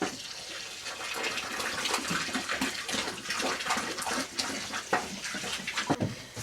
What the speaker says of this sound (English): Go help pour the syrup in.